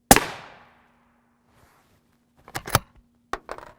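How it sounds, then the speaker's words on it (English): A rifle shot fired at the upper left of a Militech armor plate on a range, one sharp loud crack that rings out, then a few fainter clanks and clicks. "We'll shoot the left upper of the plate first."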